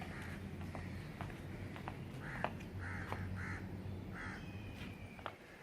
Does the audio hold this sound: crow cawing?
yes